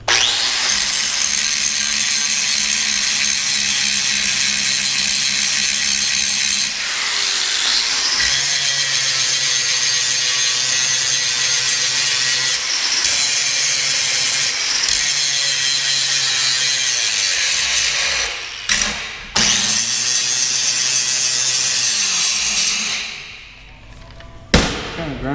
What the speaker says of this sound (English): So let's grind this a little bit right quick.